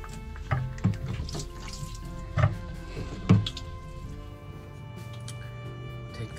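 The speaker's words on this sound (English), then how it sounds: "A lot of water in there." Water trickles and drips from a Volvo Penta 5.7 marine engine being drained for winterizing, a steady close splashing with a few louder knocks and clunks of handling along the way.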